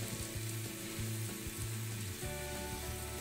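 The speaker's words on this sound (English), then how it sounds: "Do you hear that sizzle, Chad?" Beef sizzles steadily in a hot pan, a dense crackling hiss with soft scraping and stirring, close up and continuous with no talking.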